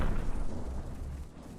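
Missiles launch and explode in the naval combat game From the Depths, making a heavy, low booming rumble that swells at once and then slowly fades, with no talking.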